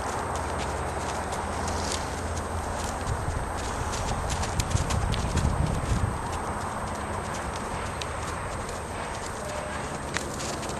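Horse hooves clip-clop steadily as a horse is ridden in a circle during an early training ride, a continuous walking rhythm at moderate distance with a louder stretch midway and no talk over it.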